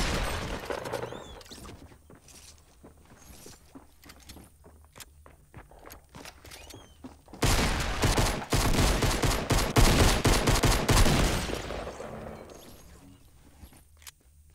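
Rapid gunfire in a Fortnite duo match: light tapping and scattered shots build into a dense, loud volley of overlapping bursts that fades out near the end.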